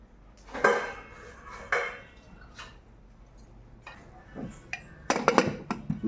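A metal pot and its lid clank and clink as the lid is set down over cooked tomato dal, with a few scattered knocks and rattles early on and a denser burst of clatter near the end, nearby and moderately loud.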